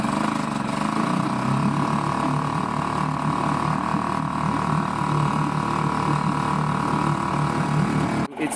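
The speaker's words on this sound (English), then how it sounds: "I've got the outboard working" A small outboard engine on a sailboat runs steadily at a constant idle-like drone, close by, with a brief knock near the end.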